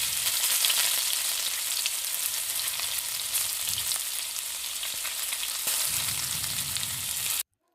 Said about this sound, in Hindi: अब मैं इसको 2-3 मिनट के लिए अरवी और गोश्त को इकट्ठे भी भून लूँगी।